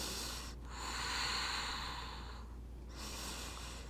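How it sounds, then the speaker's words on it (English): Deep breathing during a yoga flow: slow, close breaths rushing in and out, a long audible inhale or exhale, a short pause, then another breath beginning, with no talk. "breathing deeply."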